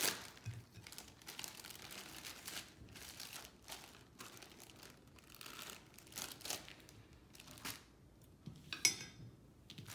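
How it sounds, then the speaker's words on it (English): Homemade sanitizing wipes made from paper towel, kitchen towel and toilet paper soaked in alcohol are stuffed into a plastic zip bag, with close, quiet crinkling and rustling of plastic in uneven bursts and no speech. "So now you can put in the zip bag."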